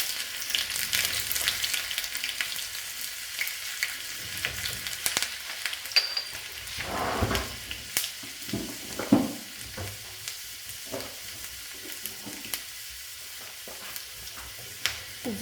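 Onion and ginger sizzle and fry in hot ghee, a steady broadband hiss running throughout with occasional stirring clatters and pops, close and alone with no talking.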